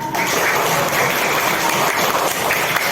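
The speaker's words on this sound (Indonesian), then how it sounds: "Yang gemuruh, yang semangat tepuk tangannya." Schoolchildren in a classroom clap together in a dense, steady burst of applause that stays loud and close for the whole stretch, with no talking over it.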